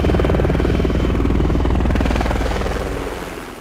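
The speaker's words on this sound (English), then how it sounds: "get to the chopper!" A loud, close helicopter with a rapid, continuous rotor chop and engine drone that fades slightly at the end.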